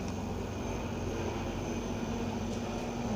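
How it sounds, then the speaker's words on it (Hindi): A helicopter flies overhead, producing a steady, loud, unbroken engine and rotor drone that fills the whole stretch with no pauses. "कौन सा हेलीकॉप्टर आ गया।"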